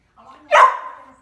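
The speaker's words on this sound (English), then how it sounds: "dog trying to escape the cage" A caged dog trying to get out lets out a single close yelping bark that trails into a thin whine, with faint sounds before it.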